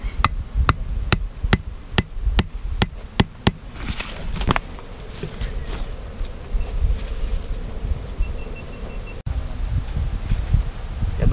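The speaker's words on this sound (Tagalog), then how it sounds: "Ito pa yung isa, pukpok natin dito." About a dozen sharp hammer strikes in an even rhythm drive a stake while setting up a riverside motorcycle camp, followed by steady insect buzzing and rustling outdoors.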